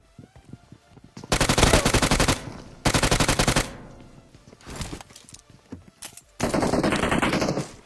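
SCAR-L assault rifle fire in a battle royale video game, loud sustained automatic bursts with rapid repeated shots, several separate volleys in quick succession, heard close.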